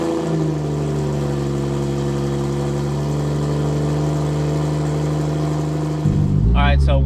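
A 2JZ-swapped 2022 Toyota GR86 runs at a steady, loud idle with a deep, constant engine drone, then the pitch shifts near the end as voices begin over it.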